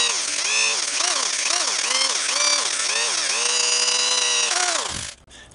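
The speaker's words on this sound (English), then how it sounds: "Take my drill, and I want to make sure I start it about the same distance from the edge." A power drill bores into a part clamped in a vise, its whine rising and settling in repeated pulses as the bit bites, then holding steady before cutting off abruptly near the end.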